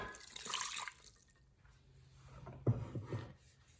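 Three-quarters of a cup of water poured into a pan of butter chicken sauce with garam masala and chili powder, a soft splashing pour followed by a few faint drips and clinks, quiet and close.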